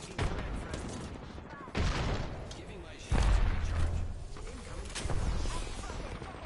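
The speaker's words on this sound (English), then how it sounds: "Oh, everybody shooting me at the same time." Several players firing at once in the battle royale game Apex Legends: overlapping bursts of gunfire arrive in a few loud waves, with a quieter muffled background between them.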